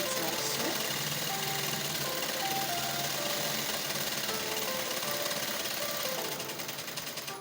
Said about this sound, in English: allow your machine to pull the fabric to the other side on its own. Okay, so you just continue sewing it like so.